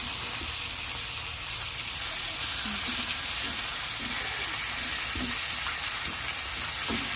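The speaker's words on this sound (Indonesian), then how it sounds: "Pakai bakar mentega." Jumbo quail grilling in butter, a constant bright, close sizzle with a few soft pops and crackles throughout and no one talking.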